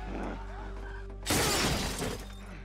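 Glass shatters loudly in a sudden crash in the video game The Last of Us, a bright burst that rings out after a stretch of quieter game sound.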